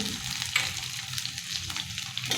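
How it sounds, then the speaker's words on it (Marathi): Urad dal and chana dal frying in hot oil over a low flame, a steady close crackling sizzle with faint stirring scrapes and a few tiny pops, without speech. "आता ही डाळ आहे ती दोन ते तीन मिनिट आपल्याला या तेलामध्ये चांगली परतून घ्यायची आहे"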